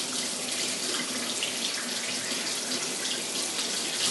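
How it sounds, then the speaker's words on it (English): Water runs steadily from a kitchen tap into a sink while waiting for it to turn hot, a continuous close broadband rush with no pauses and no voices. "We'll just run until we get hot water from the tap"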